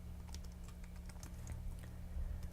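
Quiet computer keyboard typing Python code, a quick irregular run of soft key clicks close by with no voices.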